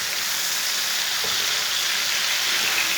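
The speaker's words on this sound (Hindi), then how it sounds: "मिक्स करके 3 मिनट तक पका लेंगे टमाटरों को।" Chopped tomatoes and green chillies fry with garlic in a hot pan, giving a loud, steady sizzle and hiss that holds throughout with no talking.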